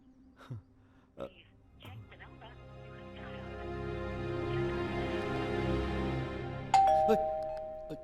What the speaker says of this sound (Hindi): डोरबेल है।